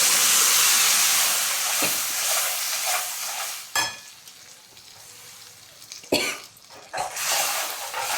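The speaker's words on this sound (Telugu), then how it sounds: "ఇప్పుడు మనం ముందుగా పేస్ట్ చేసి పెట్టుకున్నటువంటి టమాటా ప్యూరిని ఇందులో వేసుకోవాలి" Tomato puree goes into a hot pan and sizzles steadily with a loud hiss at first, then settles into softer frying with a few stirring knocks. No one speaks.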